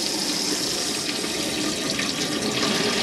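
Water runs steadily from the sink tap in a Burstner Ixeo 585 motorhome, a continuous close, loud splashing hiss that fills the whole stretch alone.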